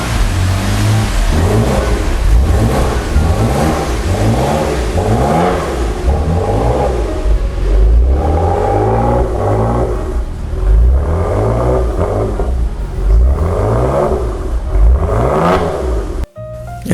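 A BMW S55 engine starts and revs after a crank hub install: loud, close, repeated rising and falling revs with a steady idle rumble between them, ending with a sharp cutoff.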